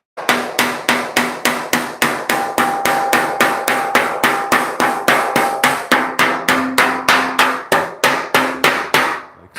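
Rapid hammer blows ring out on sheet metal of a 1938 Cadillac in a shop, about three strikes per second in a steady run, loud and close with no talking.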